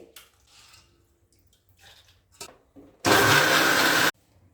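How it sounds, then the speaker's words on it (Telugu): An electric mixer grinder whirs loudly for about a second while grinding green chillies and onions, a sudden close burst that cuts off abruptly, preceded by quiet clinks and rustling. "పచ్చిమిరపకాయలు, ఉల్లిపాయలు అన్నీ వేసుకొని మెత్తగా మిక్సీ పట్టుకుందామండి"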